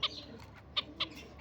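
Iraqi-bred finches give a few short, bright chirps in Baghdad, three or four sharp calls spaced irregularly over a quiet background.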